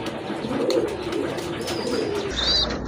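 A pair of fancy pigeons kept for sale coo softly close by in a low, rolling murmur, with a short higher chirp near the end.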